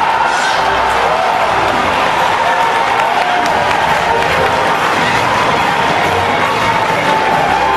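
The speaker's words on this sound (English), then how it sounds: "As the crowd cheered, Zelda creator Shigeru Miyamoto emerged on stage with a sword and shield" A large crowd cheers and whoops at the Nintendo E3 2004 press conference, a loud sustained roar of voices mixed with applause that stays dense throughout.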